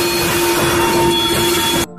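Battery-powered Thomas toy train running, a steady close mechanical whir with a faint rattle that continues evenly for nearly two seconds before switching off abruptly.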